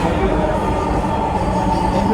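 Dhaka metro rail train running, a steady loud rumble and rolling noise inside the carriage that holds constant throughout without a break.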